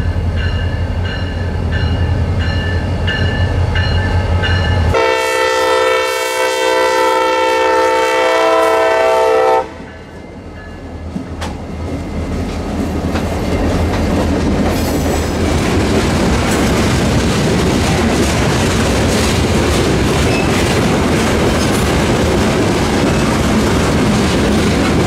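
A CSX freight train on a single-track Florida line sounds a loud, sustained horn chord. The horn stops and the close rumble and rattle of the passing cars continues steadily.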